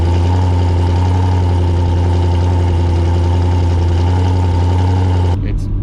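A Chevrolet Camaro in its daily driver exhaust setup cruising at 25 mph, giving a steady, close, low engine drone with a constant rumble that cuts off abruptly near the end.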